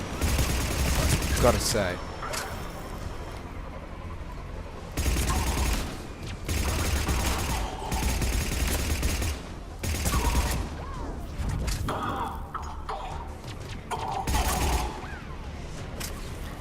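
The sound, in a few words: gunfire in video game Mass Effect 3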